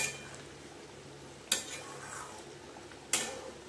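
A spoon scrapes and knocks against a pan while cauliflower curry is stirred after kewra water goes in, two distinct clinks about a second and a half apart over a low background hiss.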